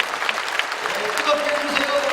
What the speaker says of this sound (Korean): 김기현 장로님 여러분 박수해 주시면 고맙겠습니다